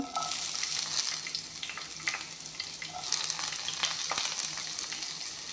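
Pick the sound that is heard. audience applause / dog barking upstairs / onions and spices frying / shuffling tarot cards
onions and spices frying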